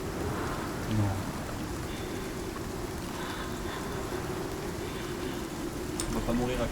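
Steady hiss of a rain shower in the survival game Icarus, an even wash of falling rain with faint knocks and small interface sounds over it.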